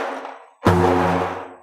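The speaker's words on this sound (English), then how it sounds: "this is the sound of the rings" The metal rings on a frame drum jingle with a bright shimmer, a first ring fading before a second strike sustains and slowly decays.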